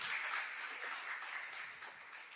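Steady, faint applause from a church congregation at a morning worship service, many hands clapping together in a continuous distant patter with no voices on top.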